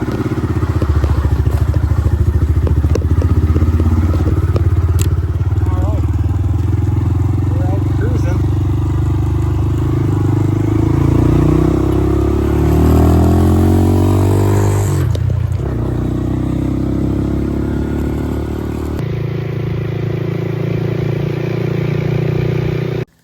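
Classic Tri-Five hot rod driving a lap around the neighborhood, with a loud, rumbling engine close by, revving and shifting with audible pitch sweeps as it accelerates, continuous throughout; a voice may be faintly present under the engine.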